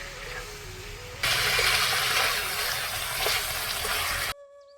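Chicken pieces fry in hot oil for a Jharkhandi-style chicken curry. After a quieter opening, a loud, steady sizzle starts and holds for several seconds, then cuts off abruptly.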